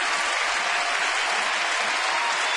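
A stadium crowd at a Rays–Orioles baseball game applauds in a steady, dense wash of clapping that holds at an even level throughout, with no voices standing out.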